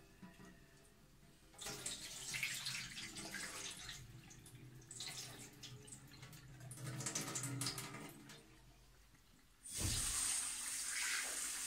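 Water runs steadily from a tap into a pan of rice being washed for sticky rice, a continuous splashing rush with brief pauses, then a louder, brighter gush of flow near the end.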